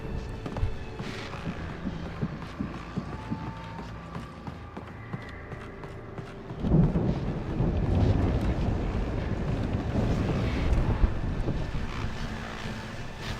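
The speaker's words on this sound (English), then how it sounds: "Sounds like it's getting a little stormy outside." Stormy weather in the video game Alan Wake: a steady gusting wind hiss that swells into a heavier, low rumbling roar about halfway through and keeps going.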